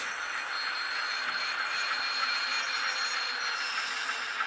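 Graham Farish Class 47 model locomotive with DCC sound in coasting mode gives a steady, even hiss-like engine drone with a high whine, continuous and unchanging throughout, no voices.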